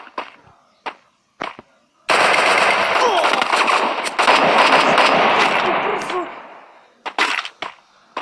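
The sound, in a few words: gunfire from a rifle in the video game Free Fire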